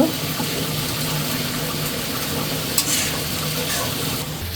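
Cumin paste goes into a frying curry, bringing a constant close sizzle with stirring scrapes and one brief clatter near the middle.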